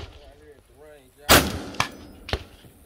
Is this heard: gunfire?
yes